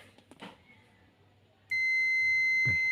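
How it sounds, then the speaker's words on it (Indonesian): A steady multimeter continuity buzzer beep switches on abruptly and holds for over a second, loud and close, after a few faint clicks and handling noises. "Kita pindahkan ininya ke kontinuitas, ke buzzer ya."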